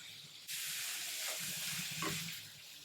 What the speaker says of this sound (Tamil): 1 நிமிஷம் ஃப்ரை ஆகட்டும்